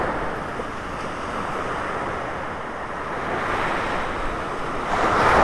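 Steady surf breaking and washing along a beach in North Naples, Florida, with continuous broadband roar that swells louder near the end, plus some wind rumble on the microphone; no voices.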